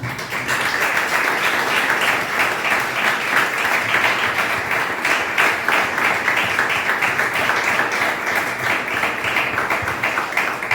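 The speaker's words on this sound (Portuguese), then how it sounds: "Então vamos dar uma salva de palmas para o Senhor." Church congregation breaks into sustained applause, dense and steady for the whole stretch, loud and close with many hands clapping together and a faint voice underneath.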